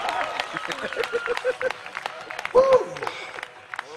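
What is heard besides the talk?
audience applause and cheering at a magic show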